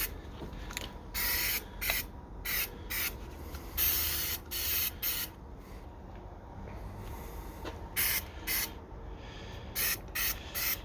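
Rattle-can spray paint hisses onto a Nissan Xterra grill in a series of short bursts of about a second each, close and fairly loud, with quiet gaps between them.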